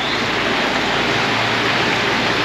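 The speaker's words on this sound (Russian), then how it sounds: "Шумит река Свирка." The Svirka river in Lazarevskoye rushing nearby, a loud, steady broadband roar of flowing water that holds constant throughout with no voices.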